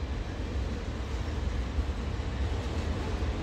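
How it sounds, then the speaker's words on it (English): A CSX freight train rolls past on the track, a steady, loud, broadband rumble and roar that stays even throughout, close by. "This is a CSX train here."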